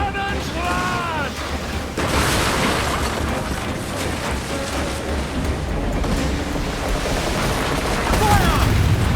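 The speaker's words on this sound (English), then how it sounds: "Uncork the cannons, lad!" Ship cannons fire in the naval game Assassin's Creed Black Flag, loud booming blasts over steady ocean and ship noise, with voices shouting orders throughout.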